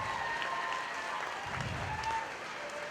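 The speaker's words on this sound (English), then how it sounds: "Let's give these young people a nice round of applause in this class." Steady applause from a crowd at a 4-H and FFA market hog show at a county fair, a dense, even wash of clapping that carries on without pause for the whole stretch.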